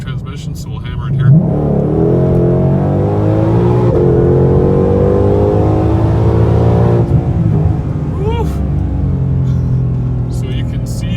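A 2020 Shelby GT500 engine in automatic transmission revs up and pulls hard, its steady roar climbing in pitch, with a voice talking over it.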